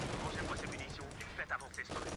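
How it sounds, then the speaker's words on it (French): Continuous gunfire and battle noise from the World War II strategy game Company of Heroes 2, with dense bursts and sharp cracks layered over a busy mix, loud and sustained throughout. "Une de nos positions de combat est sous des tirs."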